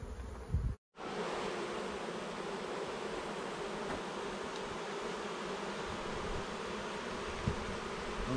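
A dense, steady hum of honeybees fills the air around an open hive being worked with a smoker, loud and continuous after a brief cut near the start.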